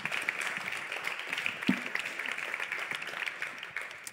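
Audience applause following a panel discussion at a digital-industry funding barcamp, a steady, moderately loud wash of many hands clapping throughout.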